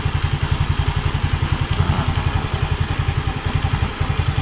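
Yamaha Mio M3 scooter engine fitted with a Veloscope intake cover, idling up close with a fast, even, thumping pulse and a slightly racy tone.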